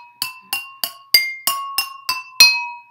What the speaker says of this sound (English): fill another glass even higher and see what kinds of sounds you can make. Musical water.